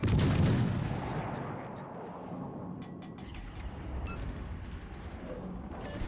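The USS Cleveland cruiser's guns fire armor-piercing shells in World of Warships Legends. A heavy booming volley opens, followed by a rolling rumble and scattered distant battle noise.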